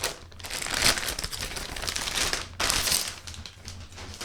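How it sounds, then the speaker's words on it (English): A Lenovo Yoga Slim 7 14-inch laptop is slid out of a plastic bag, giving close, loud crinkling and rustling in two bursts with a brief pause between. "Taking it out of the plastic bag"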